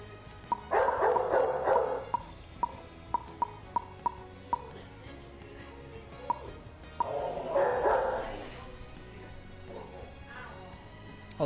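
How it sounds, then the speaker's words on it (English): A dog barks nearby in short bursts: a cluster of yips, then a run of single sharp barks, then another cluster, with a voice talking faintly in the background. "May need to deal with the dog for a second"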